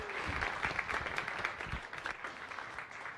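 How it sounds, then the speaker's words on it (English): An audience at a Science Cafe talk applauding to welcome a presenter to the stage, a soft continuous patter of many hands clapping, fairly distant and fading slightly toward the end. "give Adrian a round of applause"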